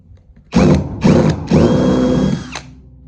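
A power drill driving a screw whirs in three bursts, two short and one longer, starting and stopping close by.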